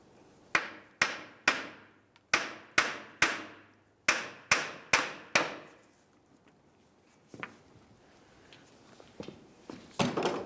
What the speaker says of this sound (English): we'll use a hammer and give this a couple loving bonks to break it free